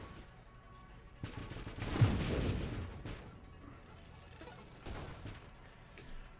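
Missiles firing in the space shooter Nova Drift: a cluster of loud, crackling explosive bursts, with heavy booms around the middle and again near the end.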